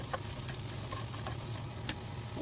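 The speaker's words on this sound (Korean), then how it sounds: "치킨이 어느 정도 데워지면 양파, 파프리카, 표고버섯 순으로 볶아주요." Leftover fried chicken stir-fries in a lightly oiled pan with onion, paprika and shiitake mushrooms, giving a faint, steady sizzle with occasional light scraping ticks.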